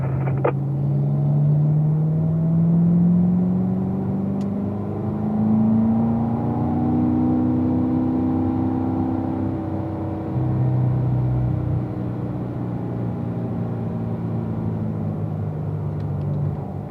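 A car accelerates along a straightaway, its engine note climbing and shifting in rising sweeps, a steady close rumble with no voices.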